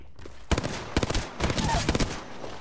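Rapid gunfire in the battle-royale game Apex Legends, several quick bursts of close, loud shots in clusters, with a voice talking over it.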